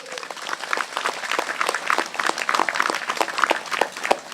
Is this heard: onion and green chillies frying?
no